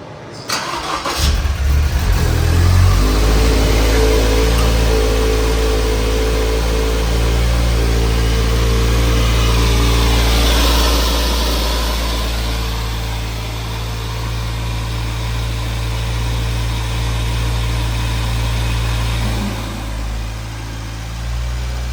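Toyota GR86 / Subaru BRZ fitted with an HKS turbo kit cranks and fires up, then settles into a loud, steady idle close by with a slight dip and rise in engine note.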